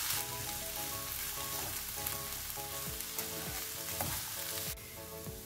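Kerala-style chickpea thoran stirred in a pan with its masala paste, a soft steady sizzle broken by repeated scraping strokes of a spoon, no voices.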